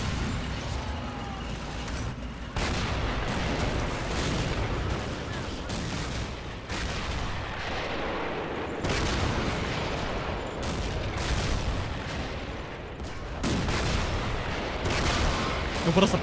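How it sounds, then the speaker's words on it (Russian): Artillery and gunfire in the Behind Enemy Lines 2 war strategy game, set in a tank battle in 1943: a dense, continuous roar of booms and shots with no let-up, and a voice narrating over the din. "Вы просто посмотрите, какой точный удар артиллерии."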